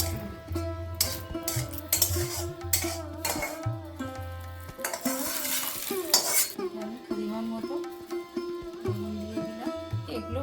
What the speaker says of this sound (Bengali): এখানে গরম আছে বলে খুন্তি দিয়ে একটু এ করে নিচ্ছি